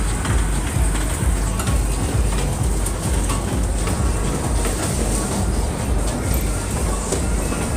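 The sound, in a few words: funfair train ride running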